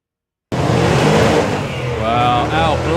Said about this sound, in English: Wow, out blazes the tyres off the start line.